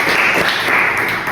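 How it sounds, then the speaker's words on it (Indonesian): Applause in a classroom for a student named Tiwi: a short, dense burst of steady clapping from many hands, loud and close, with no talk over it. "Beri tepuk tangan untuk Tiwi yang telah menjawab."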